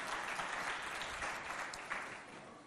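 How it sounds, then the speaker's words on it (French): An audience at a school event applauds a girl student from Wardari school in Mao, a dense, steady wash of clapping that fills the whole stretch at close range with no voices over it. "On l'applaudit bien fort"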